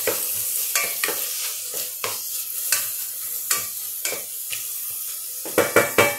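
Mushrooms and anchovies stirred in a pan for a quick pasta, a series of sharp spatula scrapes and knocks against the pan over a soft sizzle, close and uneven in rhythm, with a quicker burst at the end.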